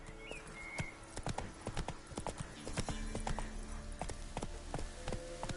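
Hooves of Roach, a horse in the video game Witcher 3, clip-clopping in a quick steady rhythm at close range, with a brief whinny near the start.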